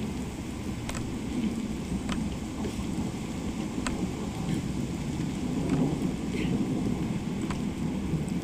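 Thunderstorm in the Shadow of the Tomb Raider video game: steady heavy rain pours throughout, with several sharp, close thunder cracks spaced every second or so over a dense low rumble.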